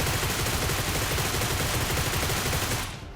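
Rapid, continuous gunfire crackles in a battle royale game during a solo first-person match, a dense loud burst of shots sustained for about three seconds before cutting off abruptly.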